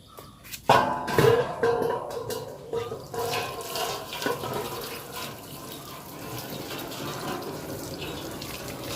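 Tap water runs onto a pangas fish being washed in a sink before cutting, starting with a sudden splashing gush, then settling into a steady pouring rush with handling splashes.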